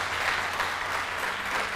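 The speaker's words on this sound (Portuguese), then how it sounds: "Há um aplauso aí" A church congregation applauds in a steady, moderately distant wash of clapping that holds evenly without pause.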